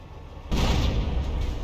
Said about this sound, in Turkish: patlama efekti mükemmel olmuş